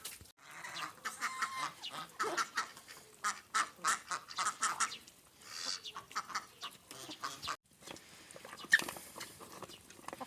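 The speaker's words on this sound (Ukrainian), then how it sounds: "Гарний півник." A rooster and other fowl cluck and squawk in short, choppy bursts, fairly quiet, with some farmyard rustling around them.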